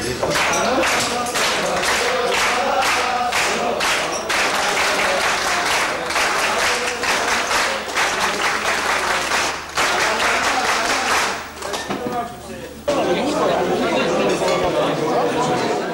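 Audience at a carpenters' guild dinner applauds the aspirants after their singing. Sustained, dense clapping with rhythmic bursts, chatter, and a clink of tableware runs throughout. It briefly drops near the end, then swells again.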